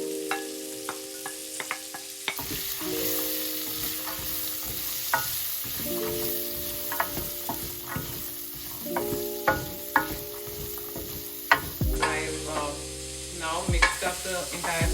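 Carrots hiss and sizzle steadily in a hot garlic tadka while a utensil scrapes and clinks against the pan in repeated stirring strokes, with no voices.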